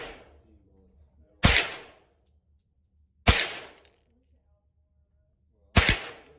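Three sharp, separate cracks of a Thompson Center T/CR22 .22 rifle being fired outdoors, spaced irregularly with quiet gaps and short decaying echoes between them.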